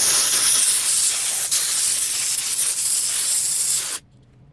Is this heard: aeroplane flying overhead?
no